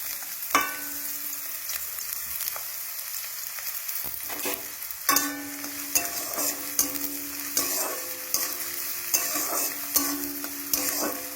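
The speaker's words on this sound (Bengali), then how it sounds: "তেলটা গরম হয়ে গেলে পেঁয়াজটা দিতে হবে" Onions fry in hot white oil in a pan, a steady soft sizzle broken by repeated scraping and stirring clinks of a spatula, close and moderately quiet, with no talking.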